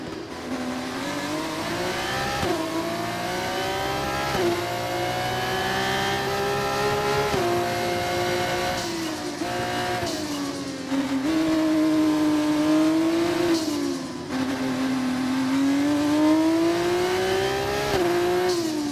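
Loud F1 race car engine from the F1 24 video game at Monaco, a continuous high-pitched whine rising and falling with gear changes and acceleration, with no pauses and no talking.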